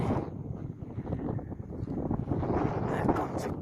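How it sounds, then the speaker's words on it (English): Strong wind buffets the microphone on a roadside near a mountain during a road trip in a Peugeot 404 diesel bakkie, a steady broadband roar with gusty swells throughout and no clear voices. "So windy, is baie winderig."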